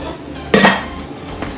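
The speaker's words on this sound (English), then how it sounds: "So first you wanna cut that in half," A knife slices through pita bread on a cutting board, giving one short crisp cut in the middle of a quiet kitchen moment, followed by a fainter tap near the end.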